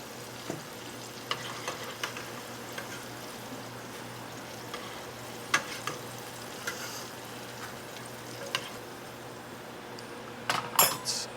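Shrimp fry and sizzle in hot oil with a soft steady crackle, broken by a few sharp pops and clinks and a louder burst of spatter near the end.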